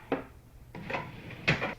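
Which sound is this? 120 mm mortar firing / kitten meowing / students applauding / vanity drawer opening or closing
vanity drawer opening or closing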